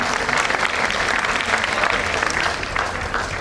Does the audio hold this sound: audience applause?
yes